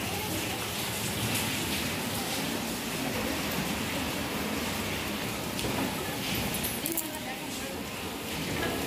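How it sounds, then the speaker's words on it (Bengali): Light drizzle falls on and off outdoors, producing a steady, dense hiss with no pauses, fairly close and even in loudness. "থামছে আবার হচ্ছে বৃষ্টি পড়ছে।"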